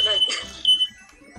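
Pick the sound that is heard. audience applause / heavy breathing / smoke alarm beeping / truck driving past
smoke alarm beeping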